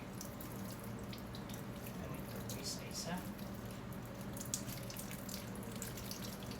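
Faucet water runs steadily in the background, a faint continuous hiss and trickle, while a voice speaks quietly over it.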